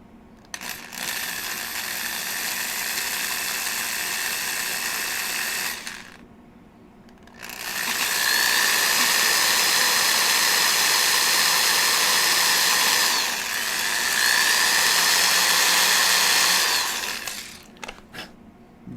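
A power drill whines loudly in two long bursts with a brief pause between, close by, ending with a few clicks.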